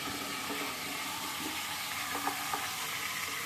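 Cucumber pieces sizzling in hot oil in a pan alongside a fried fish head, a steady soft hiss and crackle with a few faint stirring clicks.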